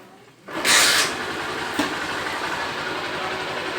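A Honda Fan 125 motorcycle engine, freshly assembled and tuned, starts with a brief rev and settles into a steady, even idle close by.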